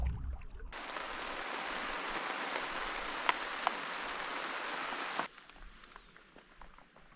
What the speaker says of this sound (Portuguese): Chuva passou rápido, foi só meia horinha, tempo do almoço.